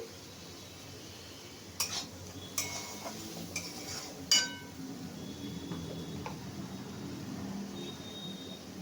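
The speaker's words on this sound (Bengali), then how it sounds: "আর এই কাশ্মীরি লঙ্কা দিচ্ছি, দিয়ে আমি নেড়ে নিচ্ছি।" Turmeric, Kashmiri chilli and salt are stirred with a spoon in a cooking pan. A few sharp metallic clinks come first, then a softer, continuous scraping and sizzling.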